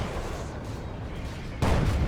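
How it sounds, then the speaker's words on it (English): Venom Cannon fire in the Dawn of War 2 strategy game during a 3v3 battle, a dense crackling barrage of impacts that jumps to a louder, heavier burst near the end. "Very brave Raptors under Venom Cannon fire."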